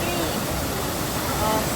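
Rushing water at Bolinao Falls in Pangasinan, a loud, steady broadband roar of falling water filling the scene.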